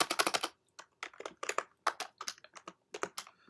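Fingers type on a computer keyboard up close: quick irregular bursts of key clicks with short gaps between them, quiet and with no speech.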